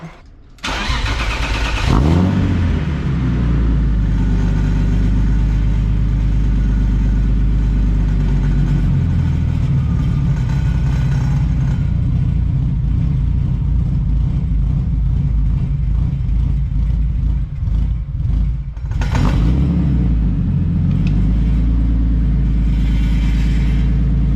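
BMW E36 engine cranks and catches, then settles into a steady, loud idle rumble that runs on alone for about twenty seconds, with a brief dip and rise in tone near the end.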